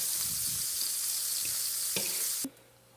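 French toast sizzles in a buttered pan: a soft, steady frying hiss under a few faint scraping taps as it is flipped, ending abruptly in near quiet.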